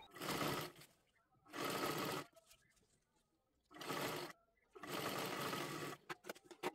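Sewing machine stitching a dress made from a saree, running in four separate close bursts with short quiet gaps between them, followed by a few quick stutters at the end.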